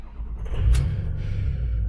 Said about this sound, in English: Truck fires right up.